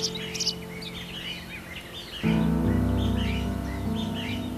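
Cinnamon sparrows, male and female, chirp and twitter in short bursts while feeding, faint at first, then over a louder steady hum that starts midway.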